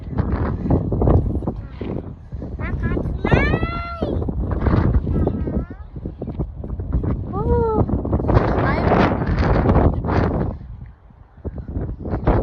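Wind buffets a microphone outdoors beside a playground swing, a steady low rumble running beneath lively children's voices and chatter throughout.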